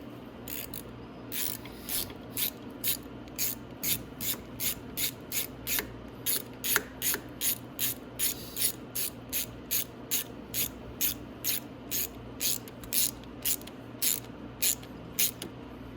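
A ratchet tightening a motor mount bolt on a Venom X22GT 250cc motorcycle, rapid clicking bursts in a steady back-and-forth rhythm, close and clear, no voices.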